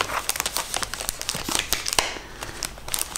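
A paper envelope with stickers on the front and back is peeled and torn open, giving a close, continuous crinkling and crackling with quick tearing bursts and no speech.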